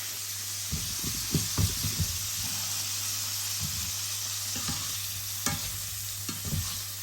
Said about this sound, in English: We're going to fry them individually.